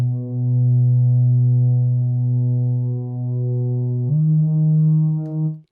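A deep, plain synth from the iZotope Iris sampler with no effects: one loud, steady droning tone that holds for about four seconds, then glides up to a higher pitch and sustains before cutting off.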